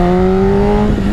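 A BMW HP4 motorcycle engine pulls hard under acceleration, a loud, steady rising drone recorded close up while riding.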